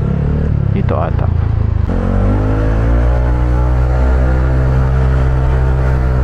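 A modified Honda Giorno 160cc scooter engine pulls hard while riding, a loud, sustained buzzing drone that climbs steadily in pitch after a brief rough patch, with a voice over it.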